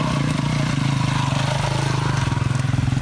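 Electric Sur Ron enduro bike on a dirt circuit, a steady near motor whine with clattering drivetrain rising slightly as it nears, continuous over the full stretch without talk.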